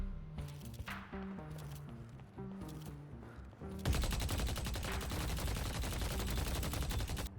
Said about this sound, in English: Abrams' revolver is a shotgun with heavy bullet fall-off that reloads a single bullet at a time.